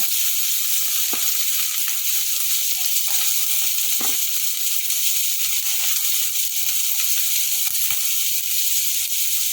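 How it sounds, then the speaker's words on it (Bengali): Onion frying in a pan for a vegetable soup, a steady, bright sizzle close by with a few soft stirring clicks over the constant hiss. "এবার পেঁয়াজটা দিয়ে দেবো"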